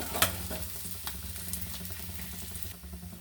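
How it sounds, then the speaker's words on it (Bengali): Bay leaf and whole cumin sizzle steadily in hot oil as a tempering for a spicy hilsa fish curry in mustard-poppy sauce, a close, continuous crackle with a sharp pop near the start and no talking. "দেখুন তেজপাতা আর একটু গোটা জিরে ফোড়নে দিয়ে দিলাম।"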